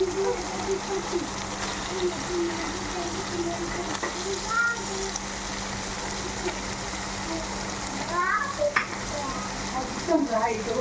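Chicken fries in an open pan for village-style tomato chicken, giving a steady sizzle with a low hum underneath and faint crackles and scraping stirs. Someone talks over it.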